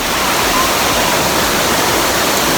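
Tungtong Falls waterfall, seen from its lowest pool, roars as a steady, loud broadband rush of falling water that fills the whole stretch with no pauses and no voices.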